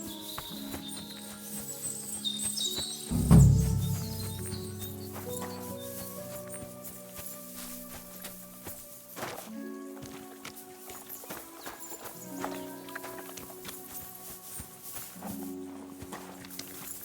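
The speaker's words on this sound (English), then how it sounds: "Aren't half a lot of horses here." Horse hooves clip-clop on the ground in the video game Kingdom Come: Deliverance, a quiet irregular walking rhythm under game music, with one louder thump early on.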